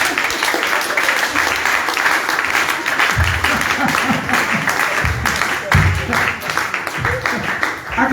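A church congregation applauds loudly and steadily at a spiritual training session, clapping filling the whole stretch with cheering and voices mixed in.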